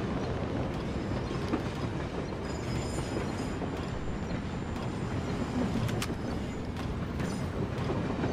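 A moving train in a shooting video game, a continuous rumbling roar with rattles and occasional sharp metallic clicks, steady and fairly loud throughout, with no speech.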